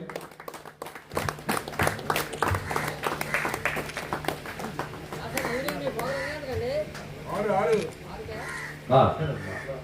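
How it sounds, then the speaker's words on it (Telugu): Scattered clapping from a gathering at an Ugadi celebration held by a walkers' health club in Chodavaram, sharp claps in a loose burst early on, then fading as voices and talking take over. "ఒకసారి అందరూ చప్పట్లతో అభినందనలు తెలియజేయాలి."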